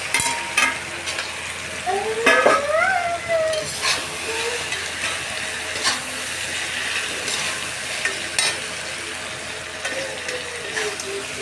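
A vegetable dragon mixture is stirred and fried in a hot pan, with a steady sizzle broken by repeated scraping strokes of the spoon against the pan and a brief squeaky scrape near the start.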